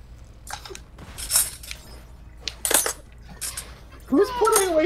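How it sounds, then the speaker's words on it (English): Dishes and cutlery are being put away: scattered metallic clinks and rattles arrive in bursts, with a brighter jangle of utensils near the end, heard alone at moderate distance. "Who's putting away dishes?"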